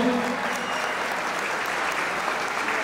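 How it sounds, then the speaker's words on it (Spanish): Steady, dense applause from the audience at a quinceañera celebration in Los Ocotes, Pénjamo, Guanajuato, Mexico, filling about three seconds at an even, moderate level with no voices standing out. "Pido un fuerte aplauso para la quinceañera de esta noche."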